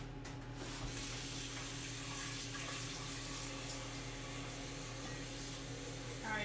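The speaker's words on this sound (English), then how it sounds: "Filling this pan up about halfway." Water runs steadily from a kitchen tap into a pan being filled about halfway, a continuous rushing hiss lasting several seconds with no talking.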